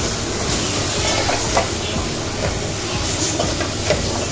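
Turmeric, garam masala, pepper and other ground spices sautéing in hot oil for a boiled-egg gravy give a steady, dense hiss and sizzle with faint clicks of stirring, continuous throughout with no talking.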